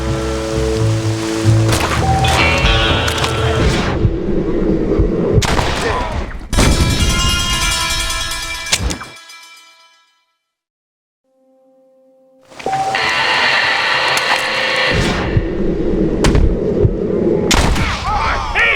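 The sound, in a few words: gunfire in the video game Red Dead Redemption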